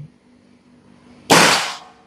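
A single sharp shot from a Black Ant airsoft gun cracks out after a quiet stretch, loud and close, with a short hissing tail and no voices.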